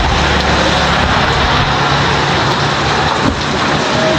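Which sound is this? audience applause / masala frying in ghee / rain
rain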